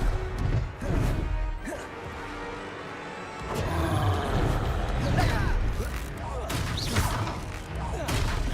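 Confringo fire spell blasts in the Hogwarts Legacy video game, loud crashing and smashing impacts amid combat effects and roaring, with voices from the game heard over the fight.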